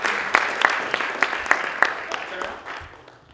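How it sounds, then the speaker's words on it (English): Audience applause for two boys at a talk event, a small crowd clapping briefly with scattered sharp claps that thin out and fade within a few seconds. "Ben and Sam, a big round of applause for these boys."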